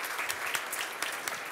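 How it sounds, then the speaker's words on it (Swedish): Brief audience applause at a lecture event on brain research, a dense burst of close clapping with individual sharp claps poking through. "En applåd tycker jag"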